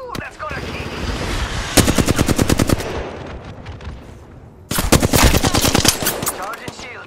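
Automatic gunfire in the video game Apex Legends, with rapid close bursts of shots separated by a quieter stretch, sharp and loud.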